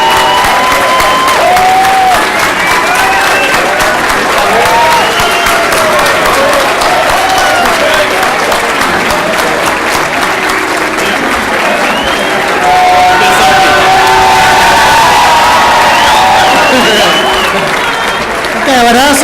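A large crowd at a dental school graduation luncheon applauds the class of 2017 in a loud, continuous wash of clapping with some cheering and whoops, and voices mixed in throughout.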